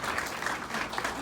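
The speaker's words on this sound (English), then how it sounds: "please feel free to applaud for one another." Applause from the audience at a US naturalization citizenship ceremony, a steady patter of clapping filling the short stretch without talk.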